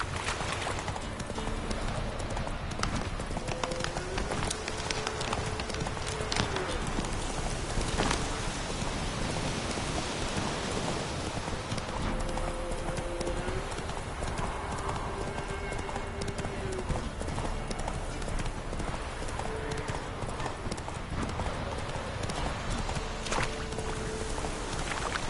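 Geralt's horse Roach galloping through a swamp in The Witcher 3, steady clip-clop hoofbeats throughout against rain falling on the ground, with a low steady hum and a little faint speech.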